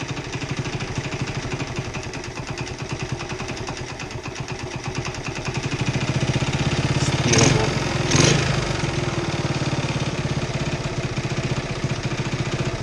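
A 1972 Honda CT70H small motorcycle engine idles steadily and close by, its putter rising slightly in level partway through with a couple of brief louder blips, as if the throttle is nudged.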